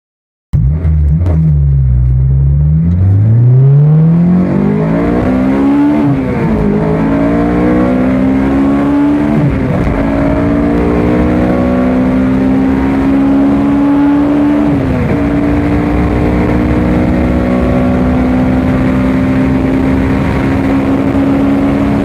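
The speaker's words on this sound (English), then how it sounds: "It has the F20C motor that revs all the way up to" Honda F20C engine revving hard toward 9,000 rpm, loud and close, climbing in pitch through several rising pulls with brief dips, then holding a high sustained wail.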